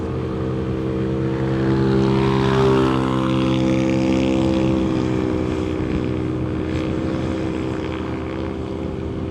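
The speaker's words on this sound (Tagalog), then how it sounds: "Pero malakas oh, kaya naman ang motor natin oh." A Suzuki Burgman scooter engine pulls hard up a steep, winding road on Mount Gulugod Baboy, a steady close drone with strong harmonic hum that swells slightly midway and holds throughout, with no talking.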